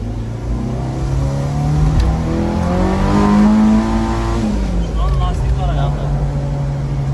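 A Yamaha SLX car engine revs hard up and back down, loud and close, with a rising and falling engine whine and voices talking over it.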